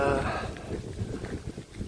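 Wind buffets the microphone on a cool morning hike along a small outdoor path, a steady low rumble with gusting swells that lasts throughout.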